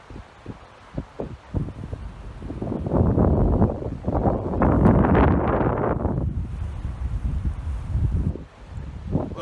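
Wind gusting across a rail bridge over a river, a loud roaring rush of buffeting that builds and swells for several seconds before easing off, with no one talking.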